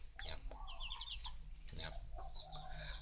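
A chicken recovering from pale-face illness, kept with a hen, gives a few soft clucks and short calls, close by over a low background rumble.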